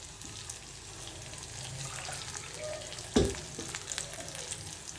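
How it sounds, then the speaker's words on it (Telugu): Tempering sizzles in a pan for ragi and wheat upma, a quiet steady frying hiss with one sharp clatter partway through and light stirring scrapes. "ఇదిగోండి పోపు వేగిపోయింది."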